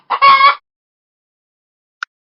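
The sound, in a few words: hen clucking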